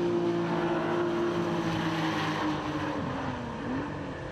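Porsche Championship race cars, including 924s, racing at Oulton Park circuit, with a steady engine drone that rises and falls slightly in pitch as cars pass, broad and continuous with wind noise throughout.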